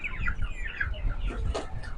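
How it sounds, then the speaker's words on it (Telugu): Live black and white chickens for sale at a market in Portugal give short clucks and chirps close by, with low background bustle and no talk. "కోళ్ళు నల్లగా ఉన్నాయి, కోళ్ళు, తెల్ల కోళ్ళు, డిఫరెంట్ కలర్స్"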